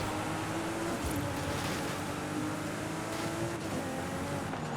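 A car engine races in Forza Horizon 5 on a dirt road, holding a loud, steady drone with a low hum that stays constant and close throughout.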